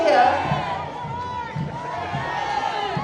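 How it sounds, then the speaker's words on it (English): A crowd lining the Toowoomba Carnival of Flowers floral parade cheers and whoops in a steady, continuous roar of voices with crowd babble throughout. "Give us a cheer"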